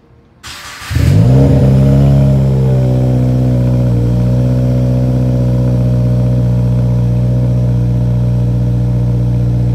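Subaru WRX fitted with an R400 catback exhaust, Turbo XS downpipe and high-flow cat, starting up and revving hard, then holding a loud, steady, deep rumble close by with no talking.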